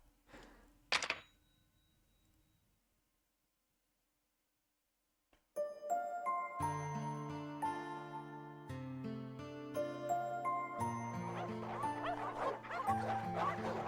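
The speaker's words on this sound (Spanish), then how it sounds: "Muchísimos perros salvajes le gruñeron a Alice, con los ojos puestos en ella." Wild dogs bark and growl in the snow in the visual novel game Witch on the Holy Night, a short, sharp burst near the start that fades, followed after a pause by swelling music.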